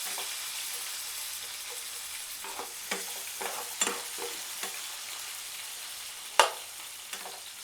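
Green chillies fry in a pan with a soft continuous sizzle, punctuated by several sharp spatula scrapes and clacks, one louder knock near the end.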